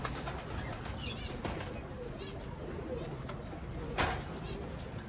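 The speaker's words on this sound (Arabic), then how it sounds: "هوريكم حتى الحمام اللي أنا فرخت منه" Pigeons coo in a loft, with brief wing flaps and soft rustling close by, while someone talks over them throughout.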